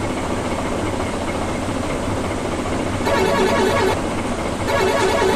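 A truck engine idles steadily in a truck-driving video game, then a loud, multi-toned Indian-style truck horn blares twice, each blast lasting about a second, close and prominent.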